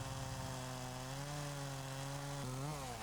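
A Husqvarna chainsaw runs steadily as it makes the face cut into a standing tree, its engine note holding constant and then dipping and rising briefly near the end, loud and close with no talking.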